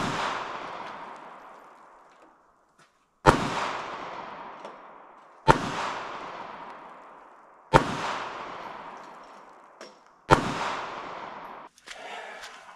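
AMT Backup pistol fired at targets outdoors, five separate sharp shots spaced about two to three seconds apart, each with a long decaying echo.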